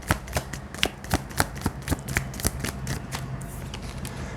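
Tarot cards being shuffled by hand, a close series of crisp riffling snaps and slaps in a quick, irregular rhythm, heard alone.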